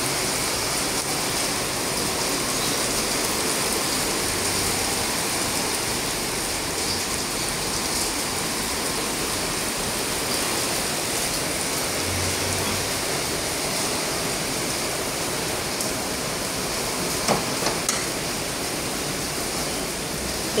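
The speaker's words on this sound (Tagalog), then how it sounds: "Ulan ng ulan talaga, super na ang pag-ulan." Heavy rain pouring down outside at about five in the afternoon, a dense, steady hiss of downpour that barely changes for the whole stretch, with only a couple of faint knocks and no voices.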